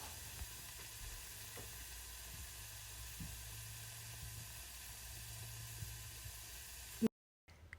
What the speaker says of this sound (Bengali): এগুলোকে তেলের মধ্যে ভেজে নিব